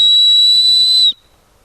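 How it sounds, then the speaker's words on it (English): A survival whistle on the lanyard of a Gerber Bear Grylls Ultimate knife gives one loud, steady shrill blast lasting about a second, then cuts off sharply into silence. "on the lanyard that came with the knife, there's a whistle"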